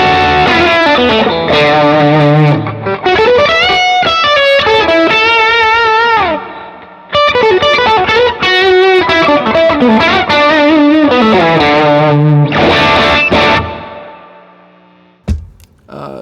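Electric guitar lead played through a pedalboard with plate reverb and effects, loud, sustained, bending melodic lines with heavy distortion and a shimmering tail, pausing briefly midway and fading near the end.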